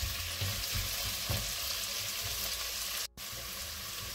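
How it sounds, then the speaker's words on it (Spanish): Green pepper and celery sauté in a pan, giving a steady, dense sizzle with occasional stirring scrapes and no talking. "Ahora echamos el pimiento verde y el apio. Vamos a moverlo y lo vamos a dejar que sofría"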